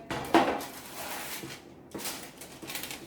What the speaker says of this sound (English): So just put it on a baking tray.